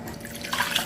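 Water poured into a bowl as the first ingredient of an asado sauce for siopao-style flying saucer sandwiches; a brief, steady splashing trickle close by with no talking.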